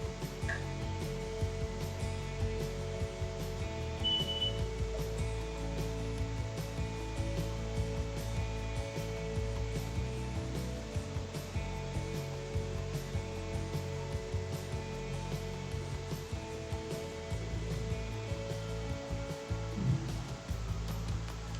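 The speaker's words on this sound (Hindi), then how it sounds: "अब हम इसे ब्लेंड करेंगे।" A blender runs steadily, whirring through eggless mayonnaise made with oil, milk and white vinegar, a continuous loud motor hum with harmonic tones that holds for the whole stretch without pause.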